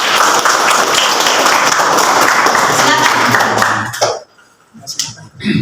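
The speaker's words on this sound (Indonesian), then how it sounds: "Kita kasih tepuk tangan dulu." A class of students applauds a presenting group in a teaching session, a dense, loud burst of clapping that lasts about four seconds and then breaks off into quiet with a few stray claps.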